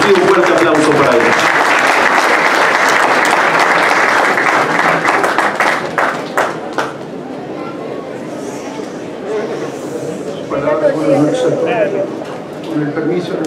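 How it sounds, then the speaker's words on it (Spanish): Audience at a Jewish community event in Mexico applauds the introduced president of the Central Jewish Committee, loud sustained clapping that fades after several seconds into murmured chatter and talk. "a quien les pido un fuerte aplauso para él"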